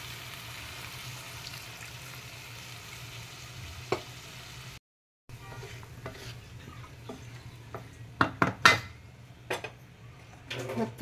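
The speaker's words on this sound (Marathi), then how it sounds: "पाणी थोडं घेतलं ते घालते" Warm water is poured into a pan of roasted paneer and cashews for a cashew paneer peas masala, a soft steady sizzle followed by several sharp splashes and clinks from the pan, fairly faint.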